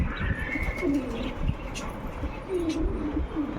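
Pigeons of a family flock that have landed coo softly in low, rolling phrases, several calls spread across the moment, with faint chirps and a distant car hum in the background.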